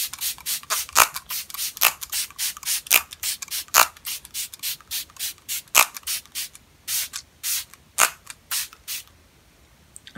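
Rapid bursts of Smashbox Primer Water face mist sprayed from a pump bottle, a long run of short hissing puffs in an uneven quick rhythm, loud and close, with no talking.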